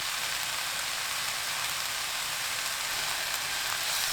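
Oyster mushrooms with minced garlic frying over high heat, a dense, rain-like hiss of sizzling oil that holds steady and close throughout.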